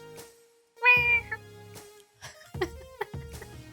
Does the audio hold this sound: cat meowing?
yes